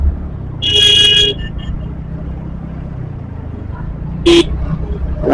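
Two loud car horn blasts, one lasting about half a second and a shorter one later, over steady road and engine rumble.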